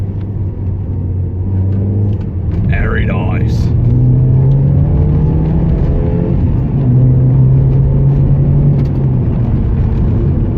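A Mazda 323F car engine revs and roars loudly with a deep, rising rumble, while a person briefly speaks over it.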